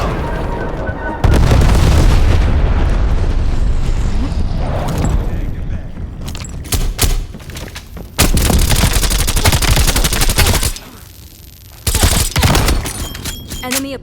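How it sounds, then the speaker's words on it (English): Napalm strike and artillery barrage in Call of Duty Cold War, heavy booming explosions and crackling gunfire roaring in long loud surges, dropping off briefly before erupting again, with voices speaking over the din. "Enemy napalm strike incoming. Artillery inbound."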